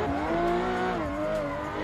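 A drift car at a Finnish drift competition spins out, its engine droning loudly with a sustained tire squeal that bends in pitch as it rotates.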